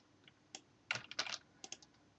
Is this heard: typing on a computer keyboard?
yes